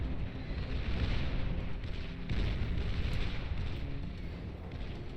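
The Sheldon artillery unit in the strategy game Beyond All Reason keeps firing, a dense, continuous rumble of booming shell blasts that stays steady and fairly loud throughout.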